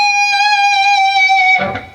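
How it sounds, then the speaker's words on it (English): An electric guitar holds a bent note with vibrato in a song, then the bend is released and the sustained tone sags and breaks up at the end. "a lot of times they start releasing the bend and it sounds like this."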